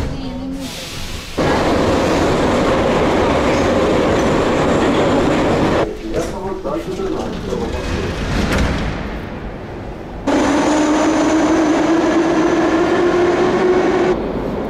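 A metro train in a subway station in war-torn Donbass, a loud rumbling roar of wheels and cars that drops briefly mid-way then returns with a rising squeal of braking wheels, voices faintly mixed in.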